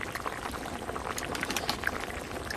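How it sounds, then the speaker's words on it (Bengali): Water pours into a pan of simmering pumpkin curry, making a faint, close bubbling and splashing patter that continues steadily throughout. "এবার জল দিয়ে দেব। জল দিয়ে দিলাম।"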